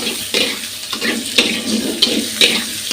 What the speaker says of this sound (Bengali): তেলের মধ্যে পেঁয়াজ কুচি কাঁচা ঝাল কিছু দিয়ে দেবো